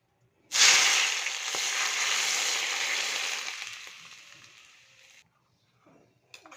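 Hot oil poured over a masala of onion, tomato and spices for Bihar-style matka mutton, giving a loud, sudden sizzle that hisses steadily for about four and a half seconds, then fades and cuts off, leaving faint clatter.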